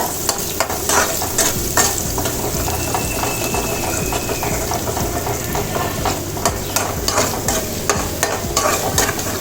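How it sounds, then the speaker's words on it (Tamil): Scrambled egg fries in a pan for egg noodles, a steady crackling sizzle broken by repeated clicks and scrapes as a spatula stirs it, close and fairly loud with no talking. "நல்லா கிளறி வச்சுட்டு பொரிஞ்சிடும் அந்த முட்டையெல்லாம் நல்லா"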